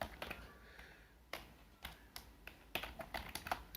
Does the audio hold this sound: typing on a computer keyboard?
yes